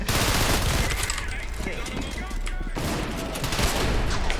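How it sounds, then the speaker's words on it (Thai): Rapid gunfire in a video game rattles in dense, continuous bursts, loud and close throughout, with a brief lull partway before the shooting resumes. "ยิงโคตรดุกเลยอ่ะ"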